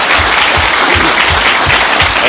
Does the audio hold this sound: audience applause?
yes